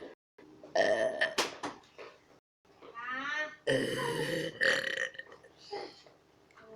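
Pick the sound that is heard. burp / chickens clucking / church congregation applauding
burp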